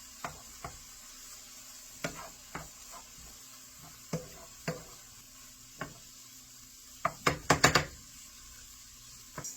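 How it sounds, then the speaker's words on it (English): Minced garlic is stirred into squash cooking in a pan, with scattered spoon scrapes and knocks over a soft sizzle, ending in a quick cluster of clattering strokes. "Get that mixed in there because it's almost done."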